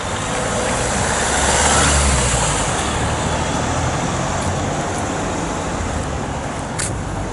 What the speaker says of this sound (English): It's extremely busy with traffic